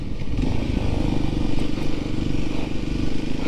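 A dirt motorcycle ridden along a muddy trail, its engine a loud, close, continuous chugging drone with rattles and scraping clatter, steady throughout.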